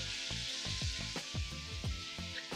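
Food frying in a pan for an ingredient challenge with sour gummies, a steady hiss of sizzling broken by quick popping bursts of bubbles throughout, close up and with no voices.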